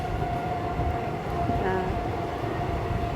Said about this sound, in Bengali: তারপর আবার ট্রেন ছেড়ে দিল এখন আমরা যাচ্ছি